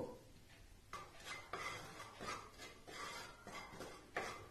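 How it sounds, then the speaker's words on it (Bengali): Rice flour roasting in a wok on a gas stove is stirred with a utensil, producing a rhythmic series of soft scraping strokes, close and quiet, about six in a row. "কড়া বসিয়ে দিয়েছি গ্যাসের ওপর, তার ভেতরে এই যে চাল গুঁড়োটা ছিল সেটা দিয়ে একটু ভেজে নেব।"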